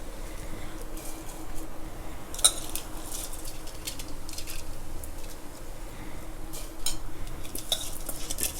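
Rice stirred with a utensil inside a pressure cooker while making tomato rice; soft scraping and light metallic clinks repeat irregularly close by, with one brighter knock near the start.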